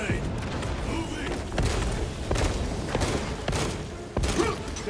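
Frag grenade blasts and combat thumps in Warhammer 40K: Space Marine 2, several sharp booming bursts spaced across the clip amid loud battle noise, with voices mixed in.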